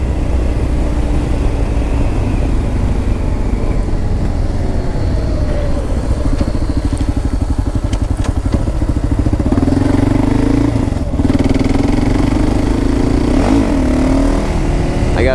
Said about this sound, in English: I know it's a thumper, it's a single cylinder, but it's actually a pretty smooth bike.